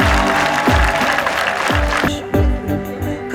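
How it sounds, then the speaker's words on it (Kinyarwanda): Crowd clapping at a Liberation Day public gathering in Kamonyi district, rhythmic unison claps of roughly two per second under background music, fairly loud and close. "Amashyi menshi."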